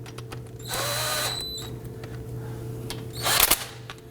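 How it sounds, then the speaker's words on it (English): Impact gun briefly running down the front brake caliper bolts on a 2018-2024 Toyota Camry, a loud whirring burst near the start and another short sharp burst later over a steady workshop hum. "I'm going to run those down quickly with the impact gun, just gently."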